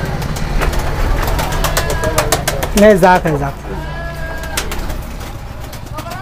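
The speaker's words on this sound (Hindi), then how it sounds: "बहुत बढ़िया कबूतर" Pigeons on a pigeon farm coo softly in low, rolling calls while a voice speaks over a steady background rumble.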